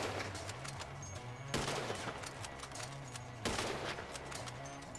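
Sniper rifle shots in Grand Theft Auto V: two sharp, loud cracks about two seconds apart over steady game background noise and a low engine drone.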